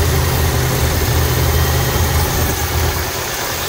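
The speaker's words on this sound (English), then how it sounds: "Yeah, rev it up, rev it up." A 1987 Cadillac 5.0 engine runs loud and close with a steady low rumble, holding a continuous throaty idle-to-rev drone that eases slightly toward the end, with no voices.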